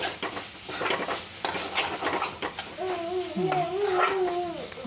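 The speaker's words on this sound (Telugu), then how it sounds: "మసాలా పొడి వేసి మళ్ళీ కలిపి" Ponnaganti leaves cooked with moong dal and drumstick leaves are stirred with a spoon after masala powder goes in, giving soft scraping and light sizzling, with a faint whining tone near the end.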